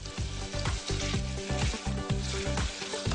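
Lemongrass stalks sizzle loudly as they are stirred through hot fat in a pot, with steady crackling frying and repeated scraping knocks from the stirring, close and continuous.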